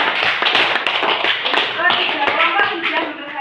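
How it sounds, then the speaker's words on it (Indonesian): Training session participants clapping for Mas Rio, a moderate group of distinct hand claps close by with shuffling and some voices mixed in. "Kita beri tepuk tangan untuk Mas Rio yang sudah berpendapat."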